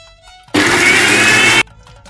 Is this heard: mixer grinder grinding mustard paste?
yes